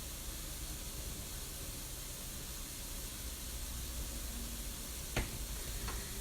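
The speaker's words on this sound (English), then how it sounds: "might as well go ahead and fry the corn and onions too" Corn and onions frying in a pan after bacon, a soft continuous sizzle and hiss with a couple of faint clicks near the end.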